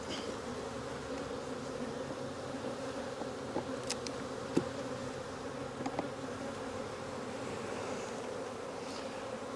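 Honeybees buzzing in a steady, dense drone as the second brood chamber box of a hive is opened during inspection, with a few brief sharper knocks along the way and no talking.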